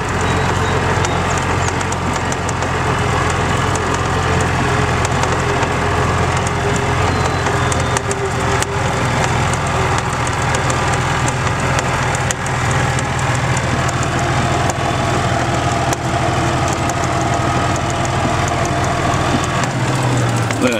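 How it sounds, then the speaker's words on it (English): A golf cart engine runs steadily and loudly during a ride across a field, a constant hum with rattling and clattering over it. "You like to ride in a golf cart, Kobe?"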